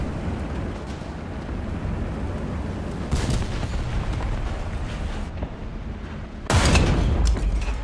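Tank cannon blasts in War Thunder armour combat: a loud broadband boom near 3.1 s and a heavier, closer shot at 6.5 s over a steady rumble of engine and battlefield noise, with no talking.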